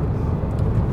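A VW T5 campervan with a 1.9 turbo diesel and five-speed manual gearbox cruising near 60 mph in top gear, giving a steady, loud low rumble of engine and road noise with no breaks.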